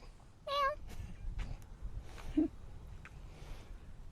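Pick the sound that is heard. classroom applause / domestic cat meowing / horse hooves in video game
domestic cat meowing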